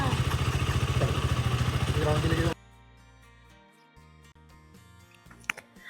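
A KTM Duke motorcycle engine roars loud and close with a rapid pulsing throb for about two and a half seconds, then cuts away to a much quieter background with voices during a home Eid al-Adha celebration.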